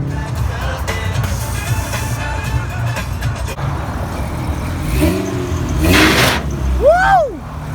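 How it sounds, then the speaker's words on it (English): V6 all-wheel drive turbo car, a Cyclone, leaving a car show with engine rumble and a couple of sharp rising revs near the end, with crowd chatter in the background. "The Cyclone's a V6 all-wheel drive turbo car."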